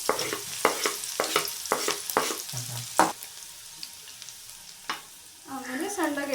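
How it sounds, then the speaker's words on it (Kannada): Green chillies and garlic in hot oil, with short stirring clatters breaking over a steady background sizzle, a few sharp utensil scrapes, close and moderately loud. "ಎಣ್ಣೆ ಕಾಯಬೇಕಾದ್ರೆ ಫಸ್ಟು 3 ಹಸಿಮೆಣಸಿನ್ಕಾಯಿ ಕಟ್ ಮಾಡ್ಕೊಂಡಿರೋದು ಹಾಕಬೇಕು"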